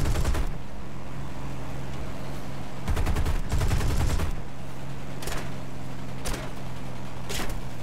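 Bursts of machine gun fire from a B-25J Mitchell bomber in the combat game War Thunder, rapid rattling volleys over a constant engine drone, with loud sustained strings and shorter separate bursts.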